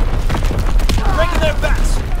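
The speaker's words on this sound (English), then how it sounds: "Incoming enemy artillery! Get to cover!" Enemy artillery explosions in Call of Duty WWII multiplayer: loud, dense booming blasts rumbling steadily throughout, with voices shouting over the barrage.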